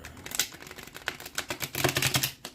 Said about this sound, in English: While I'm shuffling your cards